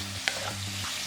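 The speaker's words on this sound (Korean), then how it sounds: "무가 숨이 죽으면 대파 넣고 볶아서 대파가 숨이 죽으면 깨소금 넣고 골고루 섞어주고" Sliced radish is stir-fried in a pan with perilla oil, giving a soft sizzle with a quick scrape of the utensil against the pan. The sound is short and close, with no talk.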